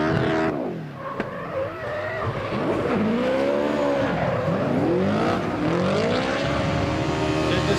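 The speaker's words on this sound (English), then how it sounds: "He just jumped on the gas and it bakes those rear tyres so far." A drift car's engine roars at high revs while rear tyres scream in long wavering squeals at a drifting championship at Manfeild Circuit, Manawatū, loud and close throughout.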